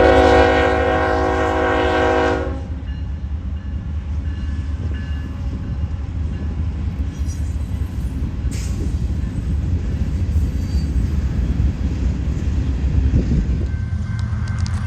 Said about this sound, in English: The Coke Express is definitely one of my favorite trains we saw on this entire trip